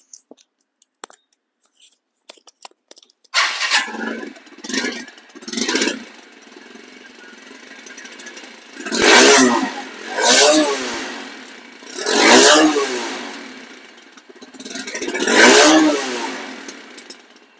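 A used TVS Apache RTR 160 motorcycle idles, then gets revved repeatedly in loud rising bursts, about seven throttle blips that each swell and fall back to a rough idle, heard up close.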